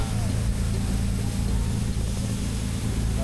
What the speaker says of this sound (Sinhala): මෙන්න යනවා ළඟම ක්‍රූස් එකක් වගේ පොඩි.